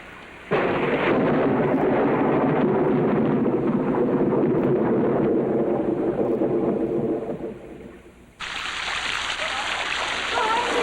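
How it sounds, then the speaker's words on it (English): A thunderstorm batters an old country house, with a loud, sustained roar of heavy rain and rumbling thunder that swells, dips briefly, then returns with harsher hiss. "As the storm continued to assail Bly House"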